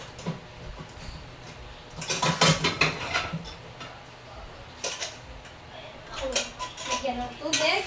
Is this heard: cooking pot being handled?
yes